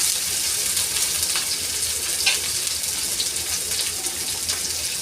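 Green chillies sauté in hot oil with onion for a radish-leaf bhaji, making a loud, continuous hissing sizzle up close, with a few faint stirring knocks.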